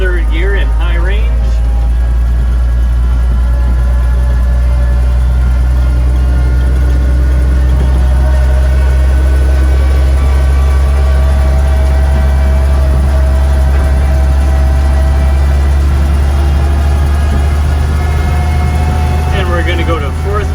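A 1948 REO Speed Wagon truck drives in third gear, high range, its engine a loud, steady low rumble with a droning whine over it throughout, and someone talks over the engine.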